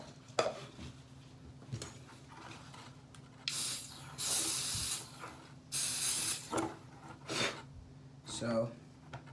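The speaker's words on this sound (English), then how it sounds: "I also got this spray infectant, which I'm about to use on this." Two bursts of a hissing aerosol disinfectant spray on hair clippers, each lasting over a second, with light clinks and handling noises in between.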